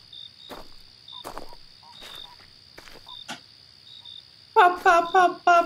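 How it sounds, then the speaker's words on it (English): Frog at a state park campsite at night, giving a quick run of loud, close popping calls near the end, after a stretch of faint chirps and a steady high insect drone. "You guys hear like a frog?"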